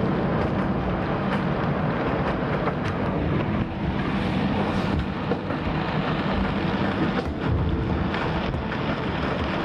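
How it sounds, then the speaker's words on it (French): Strong gale-force wind, around 38 to 40 knots, roars steadily across the microphone aboard a sailboat on a rough sea, with constant buffeting and rushing water noise throughout and no voices. "On est monté à 38 nœuds de vent,"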